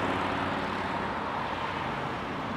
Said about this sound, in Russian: Поэтому автомобили ездят, создают большой шум.